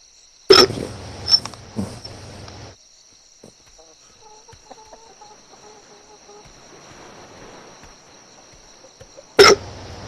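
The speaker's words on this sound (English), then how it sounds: "These hiccups are pissing me off." A person gives sharp, abrupt hiccups, one near the start, a quicker pair soon after and another near the end, each loud and close against a faint, quiet background.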